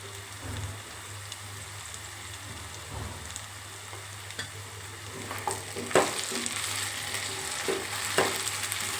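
Ginger and garlic sizzle in oil in a curry pan, a soft, steady frying crackle with a few sharper pops and spoon clinks toward the end.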